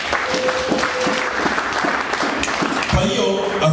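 Applause from a church congregation during a Swahili sermon, a dense steady patter of clapping lasting throughout, with a voice heard over it.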